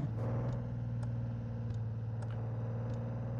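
A truck engine in Truck & Logistics Simulator drones in a steady low rumble, holding a constant revving tone for the whole stretch, with faint periodic clicks above it.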